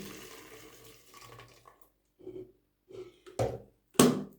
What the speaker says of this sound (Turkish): Şimdi e, kaynamış suyu tökeceğim çabuk kaynasın diye.